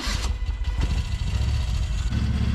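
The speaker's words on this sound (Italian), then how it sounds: "Accensione della moto." A 1982 Moto Guzzi California II motorcycle engine fires up and settles into a steady, throbbing idle, loud and close, with a slight change in tone near the end and no voices.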